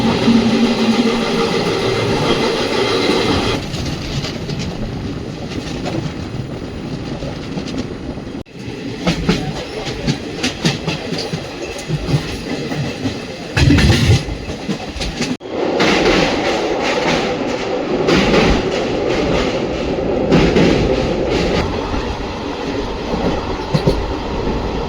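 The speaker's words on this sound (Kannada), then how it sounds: "ಜನಶತಾಬ್ದಿ ಏನಿದೆಯಲ್ಲ ಇದು ICF ವೆಹಿಕಲ್ ಓಡ್ತಾ ಇದೆ" Kerala Jan Shatabdi Express with old ICF coaches running at speed: a loud, steady rumble with rhythmic clickety-clack of wheels over rail joints and brief dips, heard close from inside the train.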